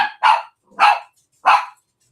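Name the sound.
dog barking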